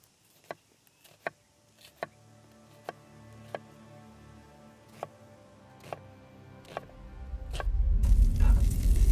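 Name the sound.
sausages sizzling in a pan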